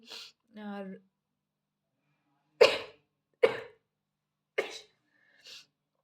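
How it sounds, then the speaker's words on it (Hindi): A short burst of speech, then a quiet pause followed by several sharp, close sneeze-like bursts spaced about a second apart, the last one fainter. "छींक आ रही है"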